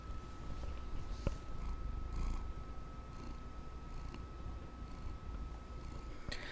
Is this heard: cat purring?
yes